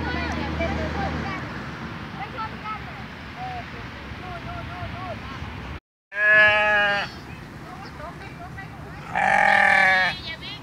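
Sheep at a restaurant farm in Mukdahan, Thailand, bleat loudly twice near the microphone, following a stretch of someone talking over outdoor background noise.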